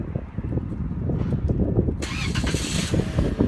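A 2015 Toyota Corolla started remotely with a Compustar remote start system, the starter cranking briefly before the engine catches and settles into a close, steady idle.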